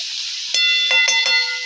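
Green chillies sizzle and crackle as they roast in hot oil for a fasting-day chutney, a steady close hiss with a few sharp spits and a bright squeak from stirring partway through.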